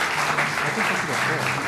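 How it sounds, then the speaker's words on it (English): Audience applause as panelists walk onto a stage for a live debate show, dense steady clapping close by with a faint murmur of voices underneath, lasting the whole stretch. "Please give them a round of applause as they arrive on the stage."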